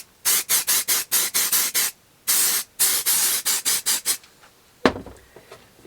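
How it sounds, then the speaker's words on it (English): Aerosol can of universal release agent sprayed onto a wax-filled fish fin casting mould: a quick series of short hissing bursts, one longer spray, a pause, then a sharp knock and quiet. "spray with that universal release again"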